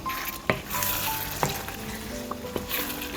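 Eggs stirred into a sizzling egg roast masala in a pan, with steady frying hiss throughout and a few sharp spoon scrapes and taps against the pan at irregular intervals.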